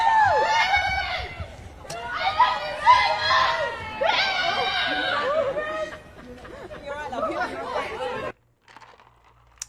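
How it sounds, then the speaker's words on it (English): Fans scream and chatter in a crowd captured in a news clip about a famous rapper, a loud, sustained wave of high excited voices that drops away abruptly near the end. "The screaming of the fans, that threw me off."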